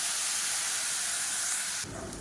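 Water poured into a pan of sautéed onions and dried red chillies sets off a loud, steady steam hiss and sizzle that fills the clip, then drops to a softer bubbling near the end.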